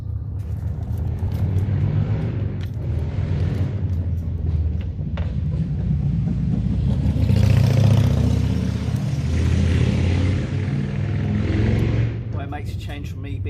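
Cars pass a parked camper van on a road, producing a rumbling swell that rises and fades, with engine revs and clatter and a person talking over the traffic noise.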